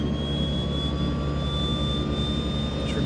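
Left engine of a de Havilland Twin Otter DHC-6-300 turboprop spooling up during start in a flight simulator, a steady loud turbine drone with rising whine tones holding continuously throughout, no voices.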